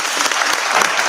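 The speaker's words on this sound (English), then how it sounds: "I'm going to give a round of applause to Sergeant Bridges for getting this organized" A brief burst of dense, steady applause from attendees at a city council work session, close and fairly loud throughout.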